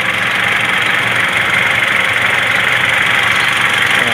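A car engine running steadily after being jump-started following battery trouble, a loud, even idle with a constant rumble throughout and no talk.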